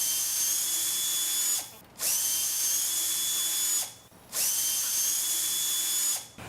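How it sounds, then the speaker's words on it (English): A power drill whirs steadily while removing a bolt from the frame of an indoor cycling bike, running in three long, loud bursts separated by brief pauses, with no talking. "To remove the chain adjust from the bike, simply remove the bolt from the front of the frame."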